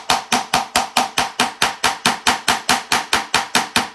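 A hammer strikes a design stamp over and over to texture a metal blank, about sixteen sharp metallic taps in a fast, steady rhythm, close and clear with no talking.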